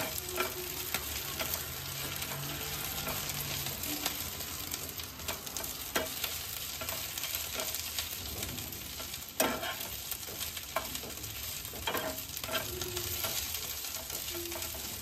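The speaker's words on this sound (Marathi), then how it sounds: "अगदी 1 ते 2 मिनिटांमध्ये ही भाजी परतून तयार होते।" Steady close sizzle of leafy ambadi greens being sautéed in a pan, with occasional stirring scrapes and clinks throughout, no talk.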